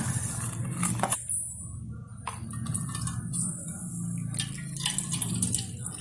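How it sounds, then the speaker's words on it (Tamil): Ajwain seeds being rinsed in water inside a vessel, with splashing, dripping and faint clinks of the pot close by, continuous and moderately loud, no talk. "ஐம்பது கிராம் ஓமத்தை போட்டு நம்ம கழுவிடலாம் ரெண்டு அல்லது மூணு தடவை நல்லா கழுவி வடிகட்டி வச்சுக்கலாம்"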